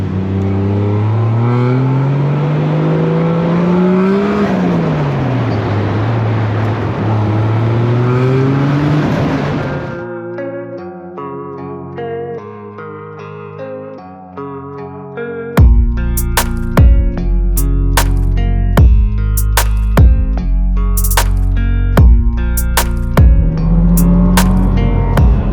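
A Toyota Chaser JZX100 with a 1JZ engine revs up and down, then the cabin fills with steady engine drone under loud music playing inside the car.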